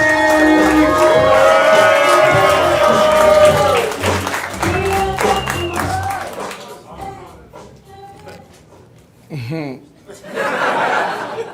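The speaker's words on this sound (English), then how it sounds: "please make so much noise for my good friend, JJ Curry!" A comedy club audience applauds and cheers as a comedian takes the stage, a loud burst of clapping and whoops over a bright musical sting, fading into scattered laughter and a voice talking.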